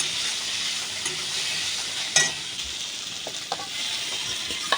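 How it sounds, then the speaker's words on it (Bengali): Chopped tomato being stirred into fried onions in a hot pan for a loitta fish dish, with a steady close sizzle and frying hiss throughout and a few sharper scrapes of the spatula against the pan. "টমেটো কুচুটা দিয়েও কিন্তু ভালো করে একটু নাড়াচাড়া করে নেব কিছুক্ষণ"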